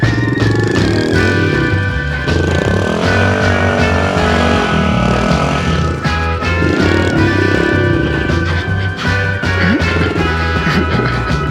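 An old Kawasaki motorcycle engine during wheelie practice, loud and close, revving and surging up and down continuously with throttle blips and gear changes.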